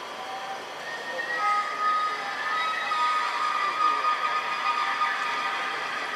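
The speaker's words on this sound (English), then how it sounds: "That sound you hear in the background is a car with very noisy brakes" A car with very noisy brakes squeals in the background at night near a railroad crossing, a faint wavering high-pitched whine drawn out over several seconds above a low ambient hum.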